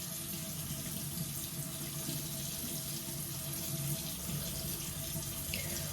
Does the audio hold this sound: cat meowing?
no